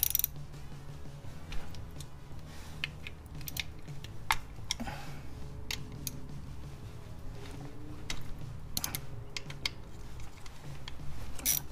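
Oil filter cover bolts come off a Yamaha V Star 1100 motorcycle engine with a 5 mm tool, giving a run of close ratcheting clicks, metallic taps and creaks in irregular bursts.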